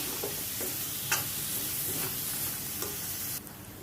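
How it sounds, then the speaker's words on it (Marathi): A coconut masala paste sautéed for a dragon stalk yam (shevala) vegetable dish gives a soft, steady sizzle with occasional stirring scrapes, close and fairly quiet, without any talk. "आता आपण वाटण पण ह्यामध्ये असं परतून घेऊया"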